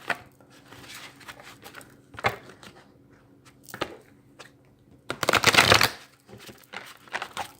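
Oracle cards are shuffled for a reading in several short bursts of papery riffling, close and fairly quiet, with the loudest shuffle near the end.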